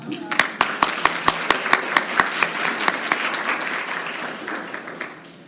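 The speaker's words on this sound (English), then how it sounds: "give yourself a round of applause" An audience at an honors event applauds loudly and close by, with sharp individual claps standing out at first before they blend into a steady wash that fades away.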